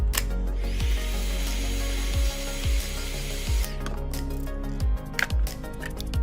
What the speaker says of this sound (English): Just need to blow some heat up here.